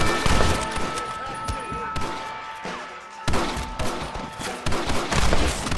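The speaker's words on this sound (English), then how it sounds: "Oh, I keep missing my shots." Heavy gunfire rattles through a Red Dead Redemption shootout in dense, overlapping volleys of shots and thumps, loud and continuous, with voices mixed in.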